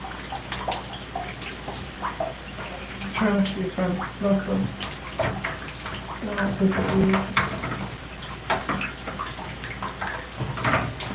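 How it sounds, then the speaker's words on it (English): Tap water pours steadily from a faucet while someone talks over it, the broadband splashing rush continuous and close beneath the voice. "I'm just waiting for the water to warm up some."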